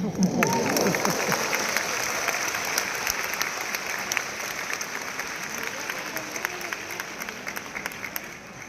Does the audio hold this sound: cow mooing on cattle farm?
no